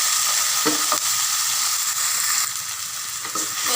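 Tomatoes for pinakbet sizzle and fry in a hot pan, a steady close crackle with a few brief stirring scrapes and no voices.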